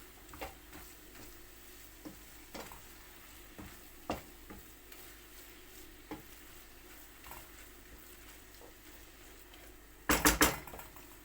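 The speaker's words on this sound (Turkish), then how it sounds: "kıymamı, soğanımı, biberimi arkadaşlar kavurdum" Minced meat, onions and peppers sizzle quietly in a pan with a soft steady crackle, punctuated by occasional light scrapes of stirring and a louder clatter near the end.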